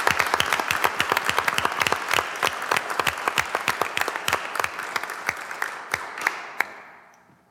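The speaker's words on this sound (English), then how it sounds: "So again, round of applause for Frater." An audience at a Board of Education meeting applauds. The crowd starts out in brisk, fairly dense clapping that thins to a few scattered claps and fades away by the end.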